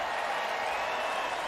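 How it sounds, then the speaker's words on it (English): A home crowd at a college football game between Central Michigan and Oklahoma State applauds and cheers after a catch, making a steady, broad wash of distant clapping and crowd noise with no single claps standing out. "he got a big round of applause for that catch from the home crowd"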